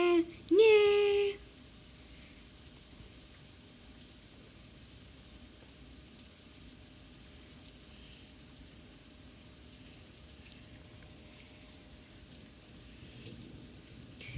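Rain falls in a steady, soft hiss that lasts throughout with no break, fairly quiet overall. A short loud voice sounds at the very start, and then the rain continues on its own.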